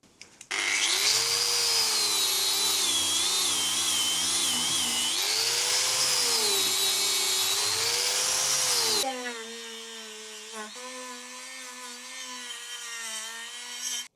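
A power tool grinds away rust and smooths roughly cut metal edges on a Mk2 Golf body, giving a loud, continuous whining drone that wavers in pitch, then drops to a lower, lighter tone near the end.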